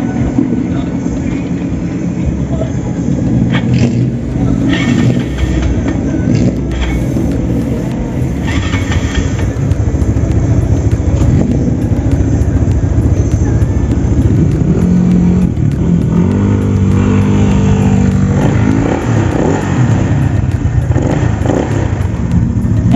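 A Mio scooter with a 220cc four-valve SOHC liquid-cooled engine and silent pipe runs steadily and loud and close, its exhaust quiet but a noisy throttle body audible, with revs rising and falling through the middle.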